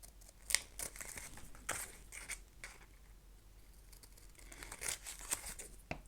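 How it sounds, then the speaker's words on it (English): Scissors snip through the corners of faux leather for a handmade book cover, a few quiet, separate crisp cuts with soft rustling between them and no talk. "I'm going to just cut out my corners a bit"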